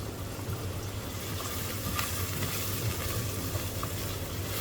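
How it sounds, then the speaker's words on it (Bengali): Chopped onion goes into hot oil tempered with a bay leaf and fries with a steady, even sizzle. The hiss stays close and unbroken throughout, with no voices. "ফোড়নে তেজপাতার সাথে সাথে দিয়ে দিচ্ছি পেঁয়াজ কুচি"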